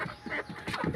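Farm chickens, a flock of five or six birds, clucking in short soft bursts close by, with low murmuring calls spread irregularly through a brief stretch.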